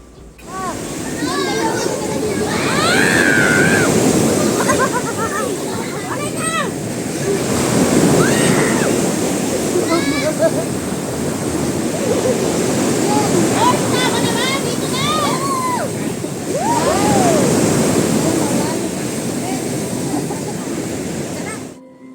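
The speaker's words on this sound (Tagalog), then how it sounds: "malakas yung alon dyan, malakas yung waves" Strong ocean waves on Boracay roar and surge in long swells, a loud continuous wash, with children's voices and chatter heard over the surf.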